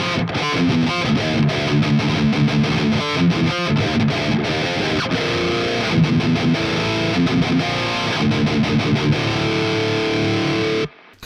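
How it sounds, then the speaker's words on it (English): Heavily distorted electric guitar played through a PRS Archon amp and Mesa Boogie traditional cabinet using an STLToneHub preset, loud and continuous riffing with chugging rhythm for about eleven seconds before stopping abruptly. "this is a PRS Archon with a Mesa Boogie traditional cabinet."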